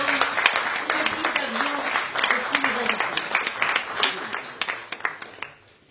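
A meeting audience at the Assemblée Nationale in Paris applauds the treasurer, with dense, rhythmic clapping and some voices mixed in before it tapers off at the end.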